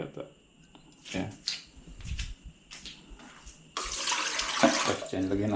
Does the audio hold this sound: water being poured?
yes